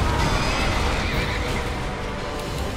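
A horse neighs and whinnies in Dark Souls 2 over a steady, dense background of game noise, continuous throughout with no pauses.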